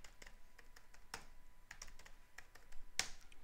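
Keystrokes on a computer keyboard as a new root password is entered for Kali Linux, a scattered run of light clicks at an uneven pace, with one sharper, louder tap near the end; no voices.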